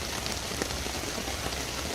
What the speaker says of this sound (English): Why are you raining on me so much?